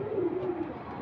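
A single Mosaldom pigeon gives a short, soft, low coo lasting about a second, near and alone, with no one talking.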